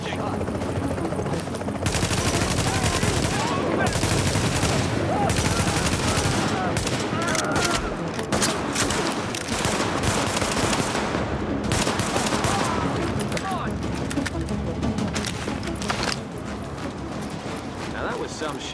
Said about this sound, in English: Now that was some shooting.